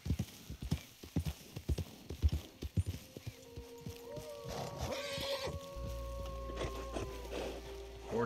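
Horse hooves clip-clop in the Red Dead Redemption 2 video game, a steady run of close, distinct hoofbeats that later thin out under a low engine-like drone, tonal chimes and a whinny.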